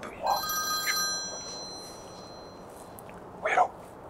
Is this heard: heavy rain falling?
no